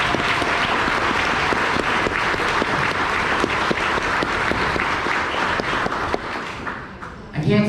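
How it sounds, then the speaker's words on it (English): A round of applause from an audience at a hotel company graduation dinner, dense sustained clapping that carries on evenly for several seconds before easing off near the end. "Let's give them a round of applause."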